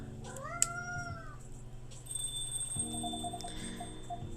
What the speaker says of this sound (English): Oh no, the kitty's meowing.